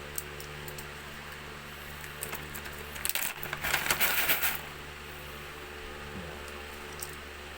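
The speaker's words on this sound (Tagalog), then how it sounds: "Dito ka maglalagay ng bala." Airsoft BBs are loaded into the magazine of an EMG Taran gas pistol, a quiet cluster of small clicks and rattles in the middle of a faint, otherwise steady background.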